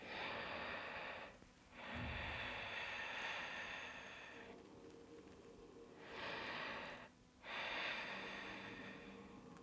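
Slow, deep breaths during a beginner yoga bow pose, long rasping inhales and exhales close to the microphone, several cycles separated by short pauses.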